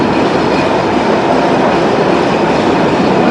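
Loud, steady rumble and roar of a passenger train crossing the Jamuna rail bridge in Bangladesh at about 120 km/h, continuous throughout with no voices.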